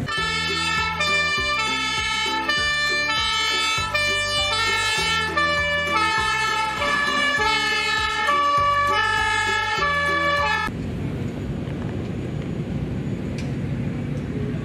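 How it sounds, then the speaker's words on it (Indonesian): A loud electronic fire truck siren cycles through stepped, repeating tones for about ten seconds, then stops, leaving a rumbling engine. "Wow, lihat teman-teman, ada mobil pemadam kebakaran"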